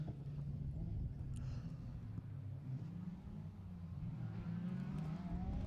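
A white Mark II Ford Escort rally car at a stage rally, its engine a faint, steady, distant drone that rises and falls slightly as it drives on.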